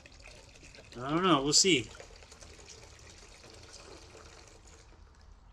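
Water mixed with dish soap pours steadily into an ultrasonic cleaner, a soft continuous splash heard close up, while a person briefly talks over the start.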